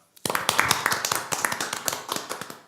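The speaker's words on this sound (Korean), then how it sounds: "부평 온도 라디오 세 번째 방송을 여러분의 힘찬 박수로 시작하겠습니다" Audience clapping opens a community radio show, starting abruptly after a brief silence with a lively run of close, distinct claps from a small group, loud at first and tapering slightly.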